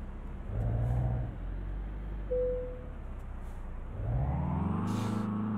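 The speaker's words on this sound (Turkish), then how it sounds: "Araç acayip hızlanıyor." A Mercedes Sprinter van's engine revs up twice, a low harmonic rumble climbing in pitch during each surge, with a steady whirring road drone between the pulls and a brief whine in the middle.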